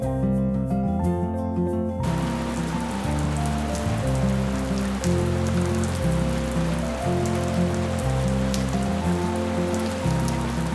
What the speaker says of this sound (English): It's such a relief that the rains have come back to the Ghats.